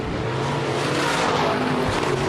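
Race cars roaring down the front straightaway at Northwest Florida Speedway in Baker, Florida, a loud, dense engine blare filling the whole stretch without letup, no talk over it.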